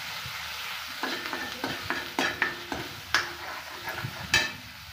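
Masala fries in a pan for a fish curry, a low sizzle broken by repeated scraping and clinking stir strokes in an uneven rhythm, close by.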